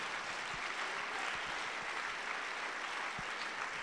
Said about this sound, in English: give yourself a round of applause, guys